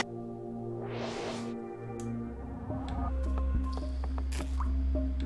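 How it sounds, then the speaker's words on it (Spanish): A single water drop falls and drips with a soft liquid plop in The Gardens Between puzzle game, standing out clearly over a steady musical backdrop with small chimes following. "La gota de agua"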